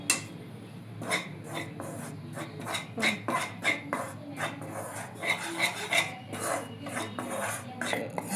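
Repeated scraping and rasping strokes of a utensil against a wok as flour is dry-roasted and stirred, close and irregular, with some metallic clinks.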